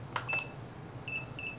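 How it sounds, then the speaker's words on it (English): DJI Vista video transmitter on an HGLRC Veyron cinewhoop gives short electronic beeps while binding, a quick pair of tones followed by a few repeated chirps, faint and close over a low background hum. "short press, and it beeped for like 3 seconds, and it's already bound"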